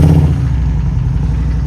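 A cold Harley-Davidson Street 750 engine, converted from a Street 500, runs close by with a steady, throbbing mid-low idle that holds evenly for the whole stretch.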